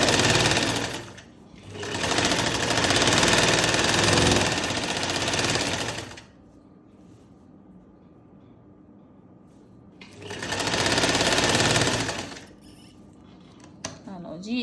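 A nearby sewing machine stitches cloth, running over an existing line of stitching on a side seam, in two long, loud, steady whirring bursts separated by a quiet pause, with faint handling sounds at the end.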